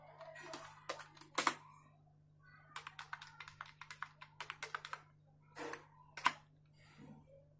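A computer keyboard clicks as a telnet command is typed. Irregular bursts of keystrokes, quiet and close, run over a low steady hum, with a few louder taps.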